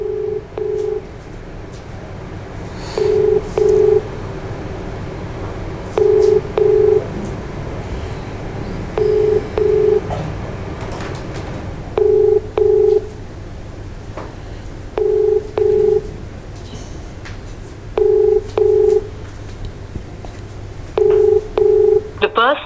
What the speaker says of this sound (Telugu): సిఐ గారు కాల్ చేస్తున్నాను.